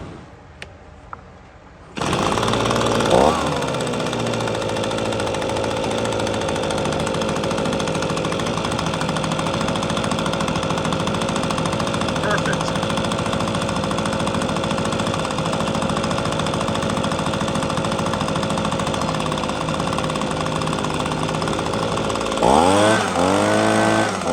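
An Echo leaf blower engine, just back from an idle speed adjustment, starts after a brief quiet moment and then runs loud and steady for over twenty seconds, with a short rev near the end.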